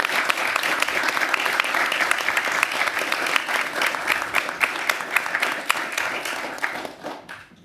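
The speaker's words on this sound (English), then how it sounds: "Let's give them the round of applause they deserve." A council chamber audience gives Speaker Johnson and the council a sustained round of applause at a public hearing, dense steady clapping that holds throughout before tapering off at the end.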